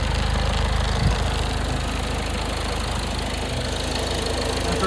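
A 2015 Ford EcoSport Titanium with push-button start idles steadily up close, a low continuous engine hum with a faint knocking rhythm and no voices.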